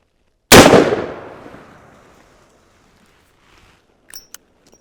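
A Ruger Super Redhawk .44 Magnum revolver fires a single loud, sharp shot at an outdoor range, with a long fading echo followed by a few faint clicks.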